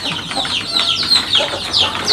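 Larmot Blue chickens clucking inside a coop converted from an old abandoned house, a busy, close chorus of overlapping clucks and squawks filling the whole short stretch with no talk.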